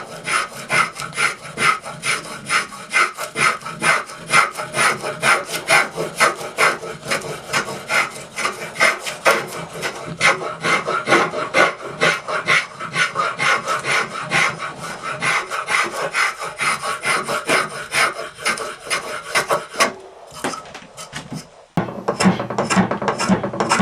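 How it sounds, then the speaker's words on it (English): A spokeshave cutting along a wooden bow saw handle, a dense run of rapid rasping strokes close up that pauses briefly near the end before resuming, with no talk. "I'm going to use a spoke shave to shape most of this."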